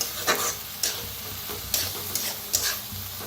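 Roasted dal being stirred in a pan while it roasts, giving a few scraping strokes and light ticks over a soft, steady sizzle, close and moderately quiet with no talking.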